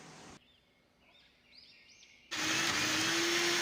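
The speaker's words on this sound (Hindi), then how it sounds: "ठंडा करने के बाद हम इसे ब्लेंड कर लेंगे" A kitchen blender processes cooked corn into a creamy paste: a short burst, a quieter stretch with faint squeaks, then a loud, steady whirring motor that runs to the end.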